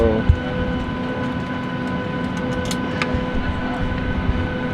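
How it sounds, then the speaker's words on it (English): A steady low roar of an airplane cabin in flight on a trip to Washington, D.C., a constant broadband engine and air drone with faint tonal hums and a brief click near the start, no talking. "We're on the plane."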